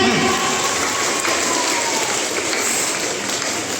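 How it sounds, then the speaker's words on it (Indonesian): A large crowd applauds at a school assembly during a student orientation, a dense, even wash of clapping that stays loud and steady throughout. "Tepuk tangan untuk semua."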